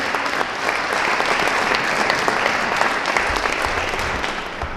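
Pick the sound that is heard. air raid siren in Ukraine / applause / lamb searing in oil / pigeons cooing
applause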